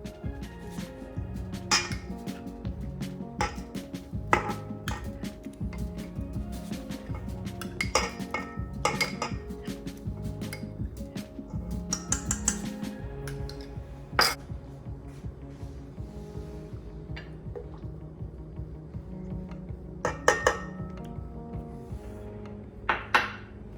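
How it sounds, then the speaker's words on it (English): A whisk repeatedly clinks and scrapes against a bowl as oil and melted butter are beaten into brownie batter, a steady close-up rhythm of metallic taps running throughout. "Whisk in the oil and the melted butter."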